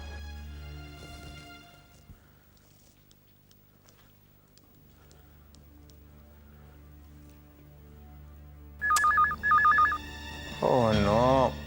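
A low hum and faint tones give way to a telephone ringing loudly in two sharp electronic bursts, followed by a warbling ring tone.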